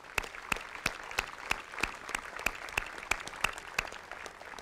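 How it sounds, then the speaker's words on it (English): At a 7th Infantry Division change of command ceremony, spaced, sharp hand claps ring out at a slow, regular rhythm, fairly faint and echoing. "Please join me in a round of applause for Team James."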